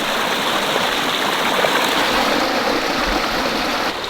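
Clear stream water flowing steadily after rain has stopped, a loud, continuous broadband rush with gentle gurgling, close by and unbroken throughout, with no voices.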